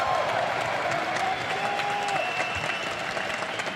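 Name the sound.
esports crowd applauding and cheering at League of Legends finals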